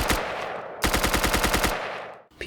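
An MP7 from a Minecraft guns mod fires two rapid bursts of automatic gunfire, a short one and then a longer, evenly spaced volley, each loud and close with a fading tail.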